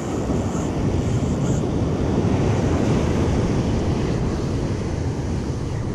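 Ocean surf rolls onto a steep, deep beach in a continuous loud roar of breaking waves, mixed with wind buffeting the microphone, and no voices.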